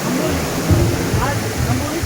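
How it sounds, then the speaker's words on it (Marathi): Monsoon waterfalls pour at Amboli ghat, a dense, steady rushing roar of falling water that fills the scene, with someone speaking over it. "हे शेकडो धबधबे छोटे मोठे धबधबे हे प्रवाहित झालेले आहेत"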